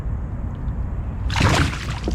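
A bass caught on a spinnerbait thrashes at the surface while being released, throwing a sudden loud splash of water midway through after a quieter stretch of lapping water.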